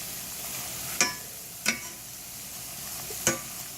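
Tortillas fry in hot oil to become cinnamon sugar crisps, with a constant soft sizzle broken by three sharp clicks of a utensil against the pan. No voices are heard.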